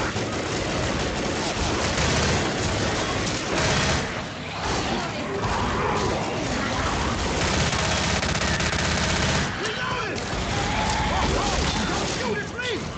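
Rapid machine-gun bursts and gunshots from the Left 4 Dead video game, loud and nearly continuous for the whole stretch with brief lulls and crashing impacts, while players talk over the shooting.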